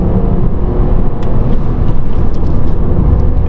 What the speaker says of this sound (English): Fiesta 1-litre EcoBoost.